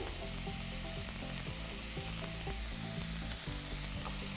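Onions for turkey tacos fry in a pan with a continuous, even sizzle at moderate loudness, close and steady, with no one talking.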